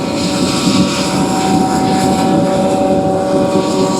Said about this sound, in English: 2366 Case IH combine.